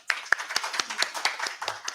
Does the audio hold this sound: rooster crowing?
no